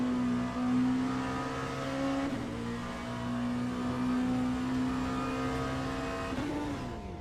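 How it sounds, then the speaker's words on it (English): Race car engine in the Le Mans Ultimate sim, holding a loud, strained drone with steady harmonic whine after a downshift over-revs and blows it, pitch dipping and rising briefly near the end. "He just blew up the engine."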